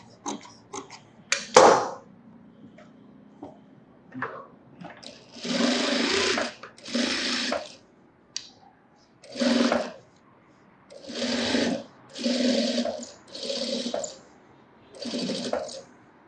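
A tailor's sewing machine runs edge stitching on a sleeveless blouse in short bursts of rapid, whirring stitching separated by quiet pauses, with a few small clicks and handling sounds near the start, close and clear.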